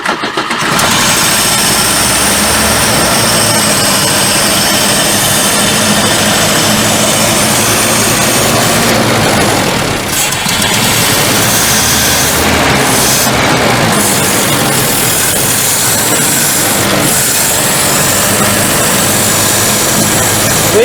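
A 1974 Volvo 142 engine cranks and then runs, giving a loud, steady, rough drone close to the microphone that lasts throughout, with no talking.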